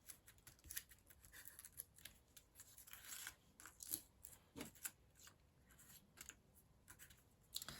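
Scissors cutting printable paper flower petals, a quiet, close run of irregular snipping and crisp paper rustling throughout.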